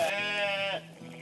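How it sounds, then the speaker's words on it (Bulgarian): A Karakachan sheep on a small farm flock gives a single loud, close bleat lasting most of a second, followed by quieter farmyard murmur. "да направим едно хубаво стадо от каракачански овце"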